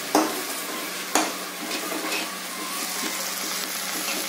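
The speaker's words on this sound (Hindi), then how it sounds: "अब थोड़ी देर आलू और प्याज को पकने देते हैं।" Potatoes and onions fry in a pan for a rice fry, a steady close sizzle with two sharp clinks of a spoon against the pan near the start.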